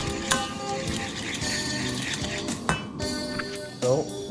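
Hollandaise sauce being stirred in a pot, with a utensil scraping and clinking against the metal in a steady, close rhythm over a busy kitchen background.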